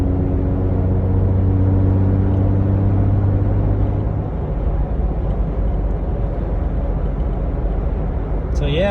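Jeep Wrangler JK running with no muffler at about 40 mph and 1800 RPM in fourth gear, a loud, deep droning exhaust rumble that stays steady and close throughout.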